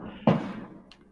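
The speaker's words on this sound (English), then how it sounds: "The cannons fire." A single cannon shot, part of a festival gun salute in a tabletop game session, lands as one short muffled boom that fades quickly, followed by a faint tap.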